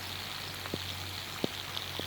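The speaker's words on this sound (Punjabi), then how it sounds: "ਮੁਸਲਾਧਾਰ ਬਾਰਿਸ਼ ਜਿਹਨੂੰ ਕਹਿੰਦੇ ਨੇ ਉਹ ਬਾਰਿਸ਼ ਹੋ ਰਹੀ ਹੈ" A heavy downpour over a village in Hasilpur makes a soft, steady hiss, with a few distinct drips landing close by every half second or so.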